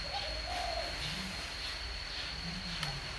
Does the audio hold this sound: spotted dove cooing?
yes